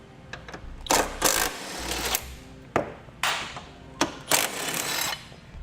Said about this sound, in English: It's a 17mm socket to remove both of these bolts.